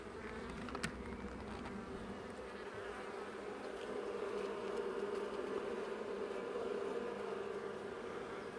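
Bees buzz continuously around a hive box in a fallen tree, a dense steady drone from many insects close to the listener, with no talk.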